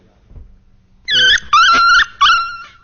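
A dog barking and growling sound effect in a radio advertisement: after a low rumble, three loud, sharp, tonal barks ring out in quick succession, close and clear.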